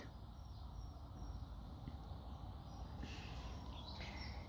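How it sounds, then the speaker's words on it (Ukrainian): Birds sing on a quiet morning outdoors in nature, faint scattered chirps and short calls over a low steady background hum. "Співають пташки тихий ранок."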